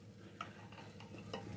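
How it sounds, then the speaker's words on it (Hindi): Baby potatoes being stirred into a masala in a pan, giving soft scraping and a light steady sizzle with a few spoon knocks, close by and with no talk. "1 से 2 मिनट तक अच्छे से हमको इसको मसाले में मिक्स कर लेना है"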